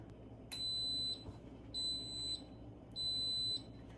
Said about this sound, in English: It's going to beep to let me know that it's going to start coming to pressure.